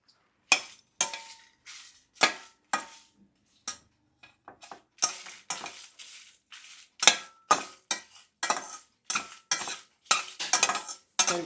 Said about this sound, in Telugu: ఎండుమిరకాయలు కొంచెం సిమ్లోనే ఫ్రై చేసుకోవాలండి